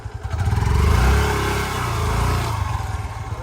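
Motorcycle engine revving hard while the bike is stuck in deep mud in Harbang forest, a loud, close, strained roar swelling and dipping over a few seconds with a chattering exhaust.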